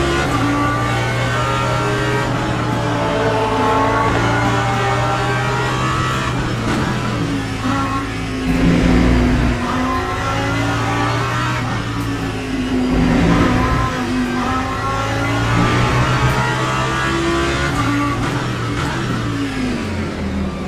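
A Lamborghini race car engine in the Le Mans Ultimate sim racing game drones steadily for about twenty seconds, with its pitch rising and falling as it revs through gears, close and continuous with no voices.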